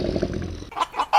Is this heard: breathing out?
no